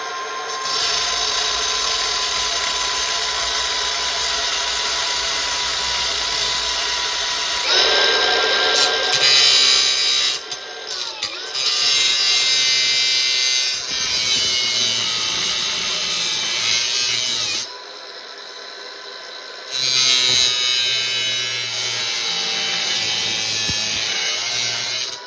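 A car's metal suspension control arm clamped in a vise is cut with a tool, producing a long, loud, steady grinding rasp that breaks off briefly and restarts several times.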